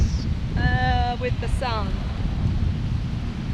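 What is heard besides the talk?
strong wind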